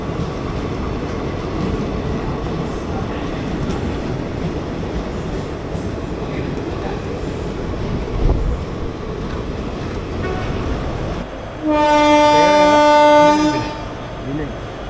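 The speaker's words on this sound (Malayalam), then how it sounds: "അപ്പുറത്തുനിന്ന് മറ്റൊരു മെമു കയറി വരുന്നു." A diesel express train waits at a station platform amid a low rumble of engines and rolling stock, then a loud horn blasts for a couple of seconds near the end as a MEMU arrives alongside.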